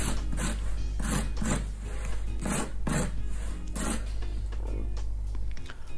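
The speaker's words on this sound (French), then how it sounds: "À la sortie du four, je râpe avec un couteau à dents pour avoir un aspect bien lisse et bien professionnel" A serrated knife rasps across a freshly baked tart crust in about seven quick, rhythmic scraping strokes over a steady low hum, close and distinct.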